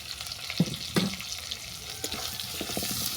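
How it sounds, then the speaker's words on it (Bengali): Water poured into a pan of frying okra and pankha fish for a sour curry, a splash near 0.6 and 1.0 seconds and then a steady low wash and sizzle close by, with no voices. "এটাকে নিয়ে রেখে পরিমাণ মতো জল দিয়ে দিচ্ছি"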